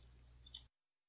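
Two quick computer mouse clicks, close and crisp, sound over a faint low hum while working in Audacity audio software; nothing follows but silence.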